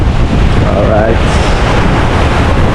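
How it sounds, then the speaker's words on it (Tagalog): Strong storm surf and gusting wind at a beach beside a cottage, a loud continuous roar with wind buffeting the microphone, as someone speaks briefly over it. "Lakas pa rin ang mga alon."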